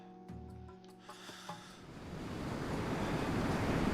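Water waves in a video game swell into a steady, soft rushing wash after a few faint clicks, quiet and building over a few seconds.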